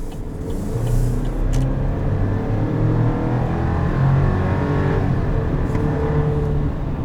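A 2020 Chevrolet Silverado Custom Rally Edition with its 2.7-liter four-cylinder engine running, a steady low droning hum with a mild rise in revs, close and continuous without talk.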